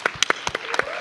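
A conference audience claps in a quick, uneven burst. Separate sharp hand claps stand out near the microphone against a softer spread of clapping.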